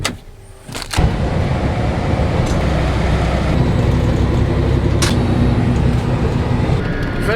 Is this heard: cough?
no